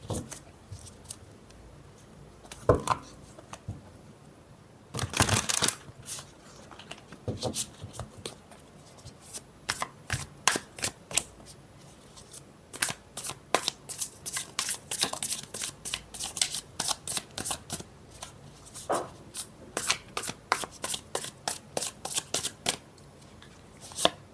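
A deck of oracle cards is shuffled in repeated crisp riffles and flicks, with fast bursts of slapping card edges close by. Quieter pauses fall between the runs.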